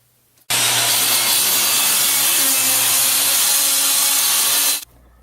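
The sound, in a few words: sawing a hole in the wooden roof deck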